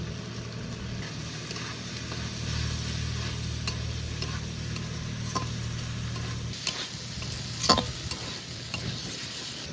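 Fried potatoes for an aloo-tomato curry, sizzling in a pan as turmeric and Kashmiri chili powder are stirred in, a continuous close frying hiss under scraping stir strokes, with a few sharp clacks near the end.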